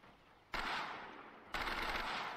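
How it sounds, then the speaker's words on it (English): A burst gun fires in the video game Totally Accurate Battlegrounds. Two loud, close bursts of rapid fire come about a second apart, each cutting in sharply over quiet background. "This is a burst gun."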